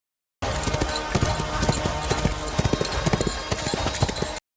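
Horse hooves clip-clopping at a steady, brisk rhythm, close and loud, each hoof strike sharp and distinct, with a faint voice in the background.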